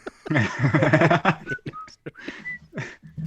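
Someone whistles a short melody along to a song in brief, bright bursts, close by, mixed with soft chuckles and breathy sounds.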